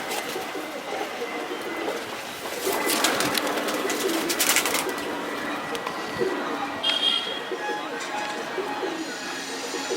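Domestic pigeons, female birds in a loft, coo softly in low repeated rolling calls, close by and fairly quiet, while someone talks over them.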